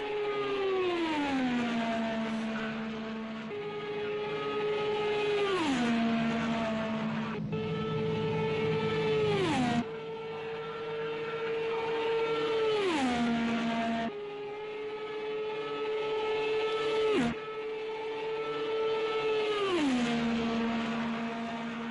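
An Indy 500 car on a pole-day qualifying lap holds a loud, steady, high engine whine, its pitch dropping and climbing back in repeated swings through the corners, with no talk.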